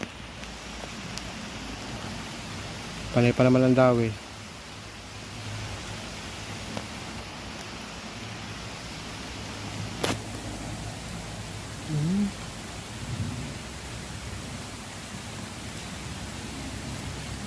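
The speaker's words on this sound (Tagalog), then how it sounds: "inabot na tayo ng ulan. Mukhang malakas to ah." Heavy rain pours steadily outdoors as a continuous hiss, with a brief voice and a few short thumps and noises breaking through the downpour.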